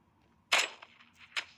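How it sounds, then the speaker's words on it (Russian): A single sharp, punchy tank cannon blast in a video game, followed by a short rattling tail and a fainter second pop, isolated and close. "Делаем выстрел."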